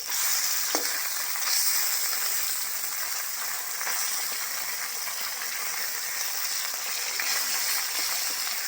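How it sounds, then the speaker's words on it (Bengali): Fish fillets from a pond sizzle steadily in hot oil in a wok after being flipped to the other side, a continuous loud frying hiss with an occasional faint clink. "এক পিঠটা ভাজা হয়ে গেছে, অপর পিঠটা উল্টিয়ে দেবো।"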